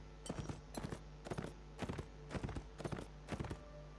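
Horse hooves clip-clop in a quick, regular rhythm in a video game, crisp and close, with a faint steady hum underneath and no voices.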